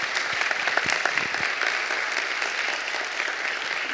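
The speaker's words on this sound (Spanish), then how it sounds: "la recibimos a Ada con un fuerte aplauso." A church congregation claps to welcome a speaker, steady applause with a few sharp, close claps standing out early, moderate in level and free of talk.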